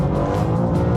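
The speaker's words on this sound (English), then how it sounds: "so there's a lot of sliding going on right now with the car." A BMW M2 CS with its driver aids switched off slides across a wet autocross course, giving a loud, sustained engine drone with tire noise and rising and falling whines throughout.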